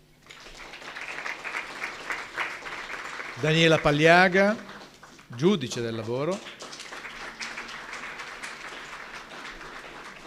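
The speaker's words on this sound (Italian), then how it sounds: "Un applauso." Audience at a labour conference applauds as speakers are called to the table, a steady patter of clapping running throughout while a presenter's voice announces names over it.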